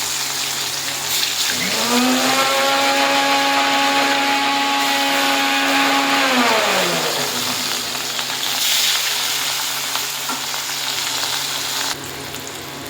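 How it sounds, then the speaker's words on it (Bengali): Katla fish pieces fried one at a time in hot oil, a loud continuous sizzle and crackle running throughout, with a machine-like whine rising and falling in the middle. "চলুন বন্ধুরা, তেলটা গরম হয়ে গেছে, এবার এক পিস করে"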